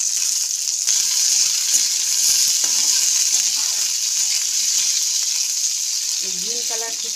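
Young hog plum pieces sizzle and fry in hot mustard oil in a wok, a steady close hiss with soft stirring scrapes throughout and a brief voice near the end.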